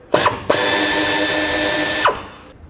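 A 10mm socket on a ratchet or power driver loosens the oil dipstick tube bolt on a 2003-2021 Chevrolet Express: a short buzz, then a loud, close, steady whirring run of about one and a half seconds that cuts off abruptly.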